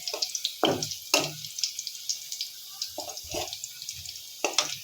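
Onion and dried chili go into a hot pan to fry for a bean and potato dish, giving faint intermittent sizzles and scattered stirring clatter with quiet gaps.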